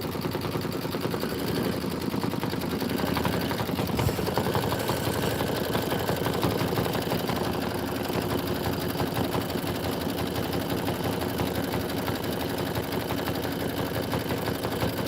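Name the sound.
embroidery machine stitching out a design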